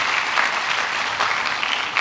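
A church congregation applauding during a sermon, a continuous, fairly soft patter of many hands clapping without any speech.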